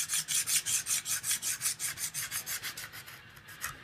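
A big knife is sharpened on a diamond stone, giving a steady rhythmic rasp of about a dozen close, loud back-and-forth strokes that slowly fade toward the end.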